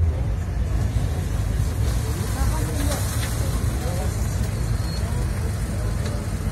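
A historic rally car arrives at Monaco for the Rallye Monte-Carlo Historique, its engine a steady rumbling drone blended with surrounding traffic and crowd noise, while a commentator talks over it.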